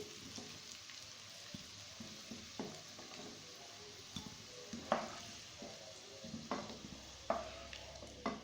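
Fried potatoes being lifted out of hot oil for a Kashmiri dum aloo curry, a soft, quiet sizzle broken by scattered clinks and scrapes of the spoon against the pan.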